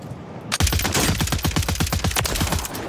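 A loud burst of rapid automatic gunfire in a video game, with dozens of close, evenly spaced shots over a dense background rumble, running continuously for over two seconds.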